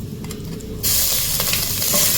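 Whole spices and ginger-garlic paste hit a hot pan on a gas cylinder stove over a lowered flame, setting off a loud, steady sizzle that bursts in abruptly and keeps hissing close by, with no talking.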